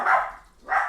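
A dog gives two short barks indoors, one after another with a brief pause between, close and moderately loud.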